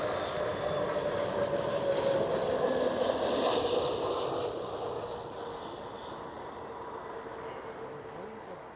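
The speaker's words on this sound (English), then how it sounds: "EasyJet A320" An EasyJet Airbus A320 rumbles along the runway at Schiphol, a steady engine roar with a faint whine that slowly fades as it moves away.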